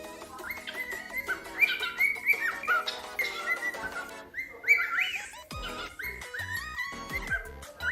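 Pet cockatiels chatter and whistle nearby, a busy mix of shrill rising whistles, squawks and chirps overlapping continuously and loudly.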